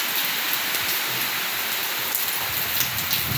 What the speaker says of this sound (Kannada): ಮಳೆ ಸ್ಟಾರ್ಟ್ ಆಗ್ಯದ ನೋಡ್ರಿ